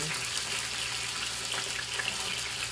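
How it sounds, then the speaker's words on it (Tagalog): Hot oil sizzles and spatters steadily in a pan while frying for a Filipino sinigang-adobo fusion dish, a continuous bright crackling hiss at close range. "huwag kayong matakot na mapilansikan ng mantika"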